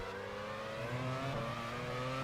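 Race car engines in an F1 video game at the 1998 Adelaide Australian Grand Prix, a steady loud drone of several engines holding and rising in pitch throughout, with no talk.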